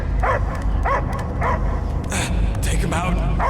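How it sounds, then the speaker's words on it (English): A dog barks in short repeated bursts within a Guardians of the Galaxy video game cutscene, mixed with a continuous low rumble and other game effects. "I hear only barking"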